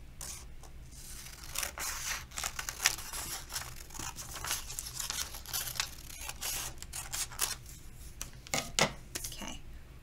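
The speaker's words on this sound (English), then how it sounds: "cut right down the middle of these two" Scissors snip through paper while a crown is cut out, giving a steady run of close, crisp cuts and crinkles with no talking.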